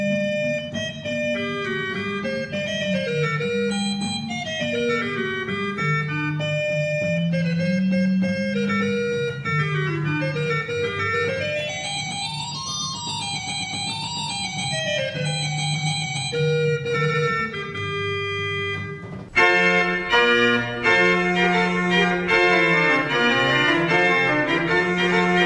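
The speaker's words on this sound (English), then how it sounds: "I could pull another stop and it'd have an entirely different sound because you'd have a combination sound" An old church pipe organ plays a sustained melody on a combination of stops, full and resonant, with held chords and moving lines, then a louder, brighter passage near the end.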